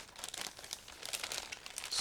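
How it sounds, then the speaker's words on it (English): A plastic bag holding ICM 1/72 scale model kit parts is opened, crinkling and rustling close by in quick, uneven bursts with no speech. "I'm opening the plastic bag with ICM parts."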